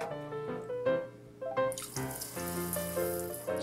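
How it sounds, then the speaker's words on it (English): A Paw Patrol Sea Patrol bath-toy squirter sprays water with a splashy, hissing rush that grows for the last half of the clip, layered over bright tonal toy chimes. "He's gonna squirt Zuma"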